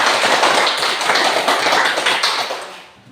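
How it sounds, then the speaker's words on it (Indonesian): A classroom of students clapping their hands together, a dense burst of loud applause lasting a few seconds before tapering off, with no talking. "Mari kita tepuk tangan dulu"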